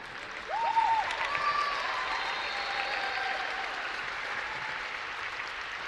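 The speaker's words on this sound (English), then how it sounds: "round of applause for Pippa" An audience at a dance spectacular in Malta applauds a performer named Pippa, a brief voice at the start, then steady moderate clapping that carries on evenly.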